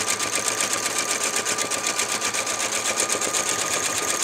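A sewing machine runs at a fast, even pace, stitching swirls into fabric with a loud, close mechanical whir and rapid needle chatter, no talking.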